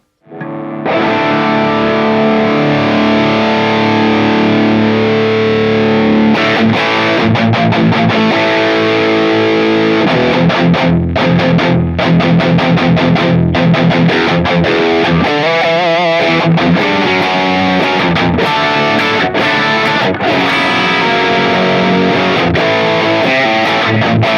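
Heavily distorted electric guitar played through an amplifier set to its extreme mode, with loud, dense chords and riffs ringing continuously and filling the whole stretch with no talking.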